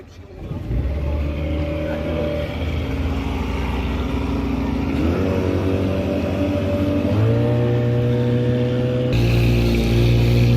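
A speedboat crossing the sea from Cox's Bazar to Moheshkhali, its loud motor droning steadily and close, with the pitch climbing in steps as it speeds up, and the rush of wind and water throughout.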